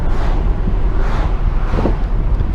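A car with a dual-clutch transmission is driven hard, its broad engine and road roar pulsing steadily with wind buffeting across the microphone and no clear gear change standing out.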